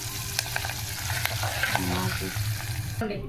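Spices for temple-style pulihora temper in hot oil, giving a dense, close sizzle with a few clicks and stirring scrapes and a brief voice near the end.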